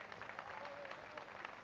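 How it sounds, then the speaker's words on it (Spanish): An audience at Argentina's Festival Nacional del Chamamé applauds a performer from Paraná, Entre Ríos, in a soft, continuous patter of clapping heard from a distance. "Un fuerte aplauso para él, entrerriano del Paraná."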